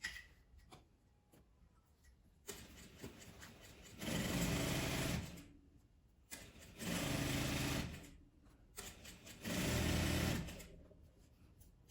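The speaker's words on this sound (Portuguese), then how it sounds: "Então, vou costurar, fazer a bainha aqui." Sewing machine running in three sustained bursts stitching a hem on a hair scarf bandana, each run lasting about one to two seconds, with quieter handling noises between.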